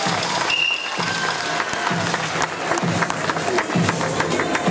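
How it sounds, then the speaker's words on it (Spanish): An audience at a Morelia seminar applauds: sustained, fairly loud crowd clapping with a few distinct claps and faint crowd murmur running underneath. "con el aplauso"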